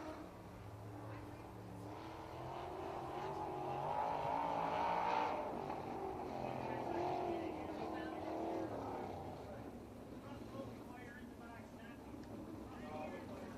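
Sprint cars race laps around a dirt speedway on the Patriot Sprint Tour, engines roaring from a distance and swelling as the pack passes, while an announcer talks over the track noise.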